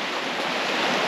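A swollen stream near Agioi Apostoloi, too full of water to wade across, rushes in a dense, even hiss of flowing water, steady and close for the whole brief moment with no voices.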